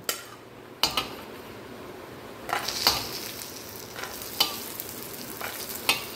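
Bori lentil dumplings fry in very hot oil in a pan for Bengali shukto, giving a steady close sizzle broken by sharp clinks and scrapes of a spoon against the pan, with no talking.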